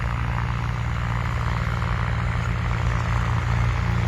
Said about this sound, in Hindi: किस तरीके से खड़ी फसलों के ऊपर प्रशासन का ट्रैक्टर इस समय चल रहा है।